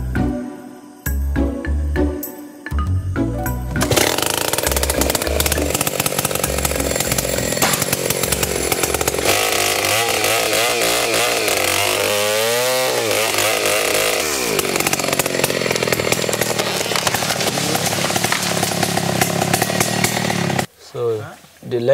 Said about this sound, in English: anyone with a bit of sense and a chainsaw can set themselves up as a logger